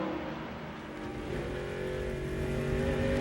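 NASCAR race cars roar around the track during the 2006 Telcel-Motorola 200, a dense continuous engine drone that swells slightly as cars rev and pass.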